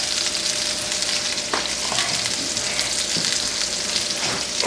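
Onions seasoned with salt sauté in a pan for smash burgers, giving a steady close sizzle with a few soft clicks from stirring.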